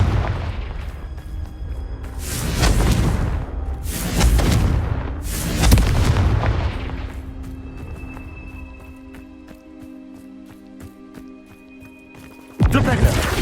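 Fire-spell explosions in Hogwarts Legacy, three heavy booming blasts in a row, each fading out, followed by a quieter stretch with game sounds and a sharp final hit.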